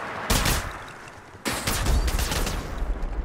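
Bursts of rapid gunfire from the mobile battle royale game Apex Legends Mobile, loud and close: a short volley, a brief lull, then a longer sustained stream of shots with no talk over it.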